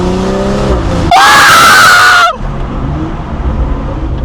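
A BMW M235i fitted with a sports catalytic converter idles with a low engine rumble, then lets out one loud, harsh, roaring blast lasting about a second before settling back to a quieter rumble.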